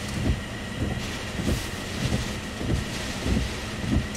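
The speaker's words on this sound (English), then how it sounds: "we're probably getting gusts over 40 right now" Strong wind gusts from Tropical Storm Gordon buffet the microphone in a steady roar, with rhythmic low thumping surges about every half second and no voices.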